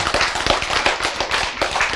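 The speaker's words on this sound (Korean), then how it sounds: "박수" Applause from an audience at a lecture on stress and the gospel, a short burst of scattered, uneven claps lasting about two seconds with no voices.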